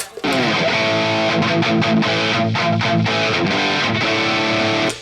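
Overdriven electric guitar through a hot-rodded Marshall-style amp with a clipping diode engaged strums a sustained chord, then chugs through a few short muted stabs, gritty and clipped, loud and steady.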